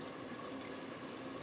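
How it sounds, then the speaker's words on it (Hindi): Water is poured into chicken handi gravy, making a steady, continuous rushing gush with no pauses. "पानी डाल रही हूँ।"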